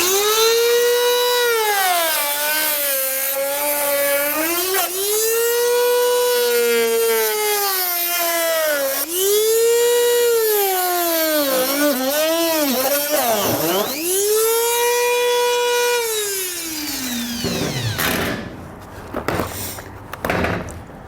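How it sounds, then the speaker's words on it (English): A Dremel rotary tool cuts out a piece of trim on a 2021 vehicle to fit an EcoHitch hidden front-mount trailer hitch receiver, giving a loud, close, whining grind whose pitch repeatedly dips and climbs under load before trailing off into scraping. "I'm gonna use a Dremel tool to cut this out"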